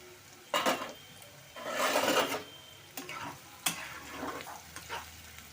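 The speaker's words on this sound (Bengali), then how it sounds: "চলো ঢাকনাটা তুলে নিই" A lid is lifted off a pan of kohlrabi pickle that has been cooking covered over medium heat, giving a few sharp metallic knocks and scrapes amid soft sizzling, close by.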